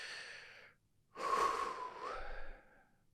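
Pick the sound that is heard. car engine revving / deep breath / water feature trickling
deep breath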